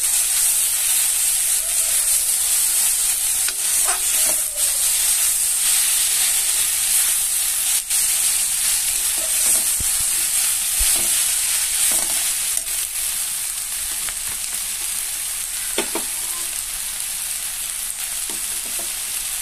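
Chicken with turmeric, Kashmiri red chili and cumin powder fries with a steady close sizzle in a dhaba-style curry, while a spoon stirs and scrapes the pan in scattered soft knocks throughout.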